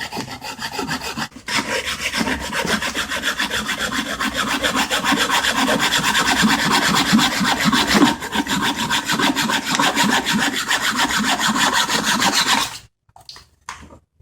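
Continuous rasping saw strokes cut through a bicycle kickstand that is raised off the ground, steady and close for about twelve seconds before stopping abruptly.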